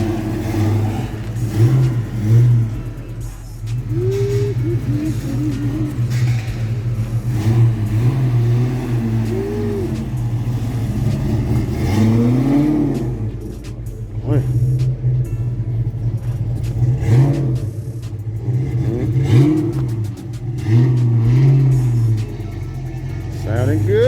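A Ford Explorer with a muffler delete, MagnaFlow exhaust and no resonator idles with a loud, deep rumble, rising in several revs that swell and fall back, while people talk over it now and then.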